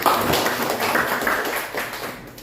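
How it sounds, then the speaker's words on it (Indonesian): A small classroom group claps for a presenter at a university teaching session, a brisk patter of many hands that stays fairly steady and close, then gradually fades toward the end. "Tepuk tangan dulu sama Bang Isnan"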